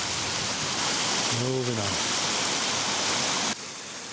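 A waterfall cascading outdoors in bad weather, a dense steady roar of rushing water filling the whole clip, loud and close, with a brief voice speaking over it partway through.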